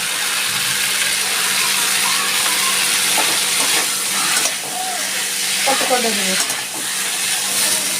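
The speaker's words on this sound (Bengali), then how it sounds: "কাঁঠালের বীজগুলো এর মধ্যে দিয়ে দিচ্ছি ঠিক ঠিক আমি আলুগুলোও দিয়ে দিচ্ছি" Jackfruit seeds and potatoes fry in a spiced mixture in a pan, giving a loud, steady sizzle with occasional stirring scrapes, close and continuous.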